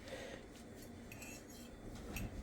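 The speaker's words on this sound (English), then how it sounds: "So I just put some salt and pepper and Mickey gonna mix it out." Food seasoned with salt and pepper is mixed in a bowl, a utensil clinking and scraping softly in a few quiet, uneven strokes close by.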